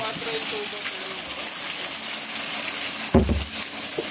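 Water gushes from a 4-inch outlet pipe of a solar-powered irrigation pump in a loud, steady broadband rush that runs throughout. A voice briefly overlaps the flow near the start, and a splash or knock comes near the end.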